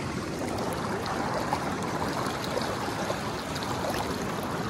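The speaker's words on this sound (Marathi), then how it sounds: "नदीतलं इकडे एक ओहळ इलो आहे" A small monsoon-season stream in the Konkan countryside flows into a river, giving a steady, broadband rush of running water that stays even and continuous throughout, with no voices.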